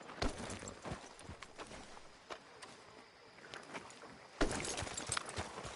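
Horse hooves clip-clop in the Red Dead Redemption video game, a soft irregular patter of steps with a busier burst of hoofbeats near the end.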